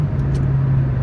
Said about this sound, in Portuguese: com o acelerador em kickdown, né? Acelerando tudo.